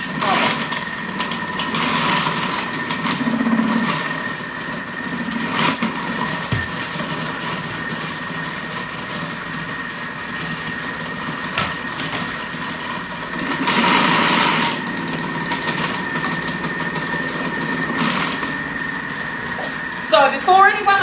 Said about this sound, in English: when you're grating your cheese with your cutter, start the machine first, then put the cheese in